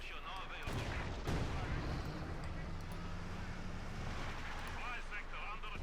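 Gunfire and artillery-like blasts from the WWII strategy game Company of Heroes 2, a dense, continuous rumble of shots and booms throughout, with a commentator talking over the battle.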